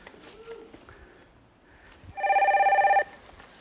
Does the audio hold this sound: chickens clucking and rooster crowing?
no